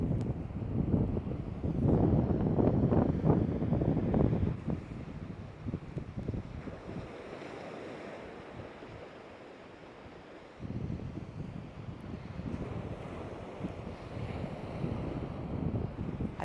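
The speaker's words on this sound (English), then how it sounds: "Yeah, I'll take a windy, cool beach." Steady wind gusting across an open beach on Florida's West Coast, loud buffeting rumble at first, easing to a softer blow, then picking up again, with no talking.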